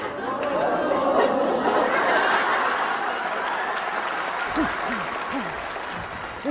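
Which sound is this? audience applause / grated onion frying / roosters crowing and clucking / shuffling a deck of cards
audience applause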